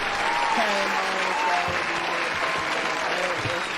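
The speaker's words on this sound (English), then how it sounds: "clap it up for him" A podcast guest draws steady applause and clapping from a small group, continuous and fairly close for the whole stretch, with faint voices underneath.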